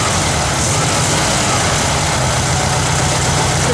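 A Kubelwagen engine under a tune-up runs with the throttle held steady, a loud, constant, close rumble with no break or rev change.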